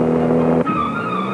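A Jaguar XKE with its stock 4.2-liter engine drives past, a loud, steady engine drone that shifts pitch abruptly partway through.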